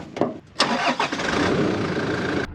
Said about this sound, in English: Just turn the engine on because it's all hooked up to the crank battery.